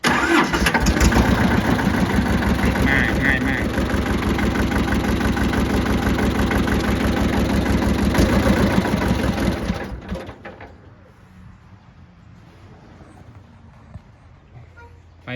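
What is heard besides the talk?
small tractor engine starting and idling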